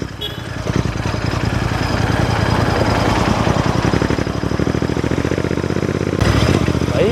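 A Royal Enfield Super Meteor 650 cruiser motorcycle pulls away and is ridden nearby outside a garage cafe. Its twin-cylinder engine makes a steady, loud, rhythmic thumping throughout.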